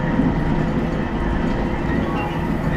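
Bangkok Gold Line train rolling into Charoen Nakhon station, a steady loud low rumble of the car from inside with faint rattling and no distinct clicks.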